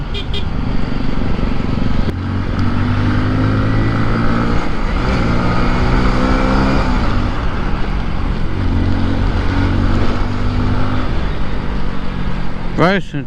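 A Hero Splendor Plus motorcycle accelerates hard uphill on a long ride toward Kerala, its engine note rising in steady harmonic steps, loud and close throughout, with wind rush and a brief shifting whine near the end.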